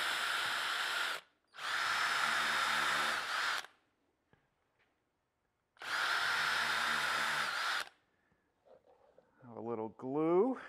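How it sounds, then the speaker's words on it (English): A power drill pre-drilling screw holes in kitchen cabinet parts whines in two steady bursts of a couple of seconds each, close by, separated by quiet, followed by a brief rising whir. "I'm going to pre-drill for the screws and countersink from the other side."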